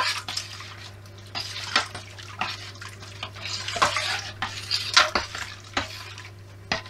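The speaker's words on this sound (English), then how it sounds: "So we need to dissolve this now. So I'm basically stirring it" Beer kit extract for a Coopers Mexican Cerveza is stirred to dissolve in a fermenter, a rhythmic swishing and sloshing of liquid with scraping strokes repeating every second or so, close up over a low steady hum.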